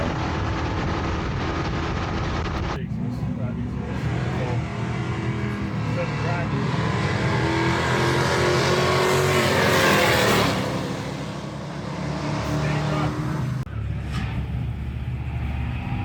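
A loud, sustained engine roar at a drag racing track day, rising and holding as a car accelerates hard, fading briefly, then swelling again, with voices faintly beneath.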